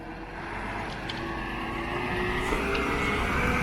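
A big concrete mixer truck maneuvers at a ready-mix concrete pour site, its diesel engine giving a steady, loud rumble that swells slightly toward the end, with no talk over it.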